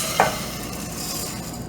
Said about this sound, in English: What I'm gonna do next, I'm actually gonna add my rice.